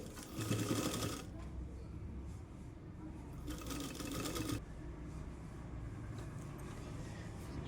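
A sewing machine stitches fabric for a Punjabi dress, running in two loud bursts of steady whirring with a quieter stretch between them, close up against faint room noise.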